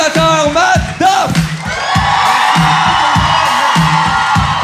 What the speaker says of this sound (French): on donne une bonne main d'applaudissement à mes invités